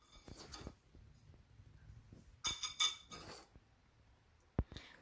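A whisk works donut batter in a bowl, giving a few scattered bursts of scraping and clinking against the side with quiet gaps between strokes and one sharp tap near the end.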